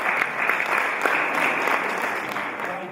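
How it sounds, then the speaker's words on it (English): Audience clapping steadily through a sermon-style talk, a dense, even wash of applause filling the whole moment without a break. "Thank you for clapping."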